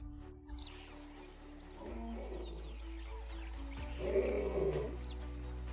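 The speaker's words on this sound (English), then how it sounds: "He announces his presence with a deafening roar that can be heard up to 8 kilometers away." A male lion roars in the wild, rising from low grunting breaths into deep, drawn-out roars that build in loudness toward the end, with faint bird calls in the background.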